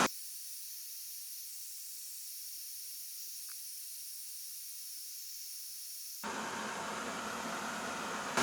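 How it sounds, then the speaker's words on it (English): Water in a pot on a small survival kit stove hisses steadily, then breaks into a louder, rougher bubbling roar as it reaches a rolling boil, close and continuous. "Well, that was a rolling boil."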